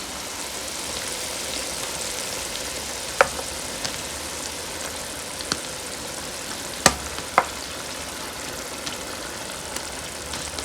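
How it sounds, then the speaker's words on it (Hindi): Meatball koftas simmering in a coconut-paste curry for an Eid kofta and egg dish, giving a steady soft sizzle and bubble broken by a few sharp clicks of a spoon or lid, with no talking. "अब इसमें हम कोफ्ते डालेंगे।"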